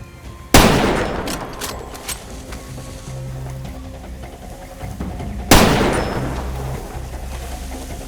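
Two loud gunshots from the video game Far Cry 2, separated by about five seconds, each a sharp blast trailing into a long, rumbling decay over a low ambient game background.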